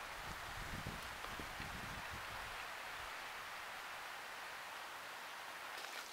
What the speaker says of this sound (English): You can probably hear that it has started raining.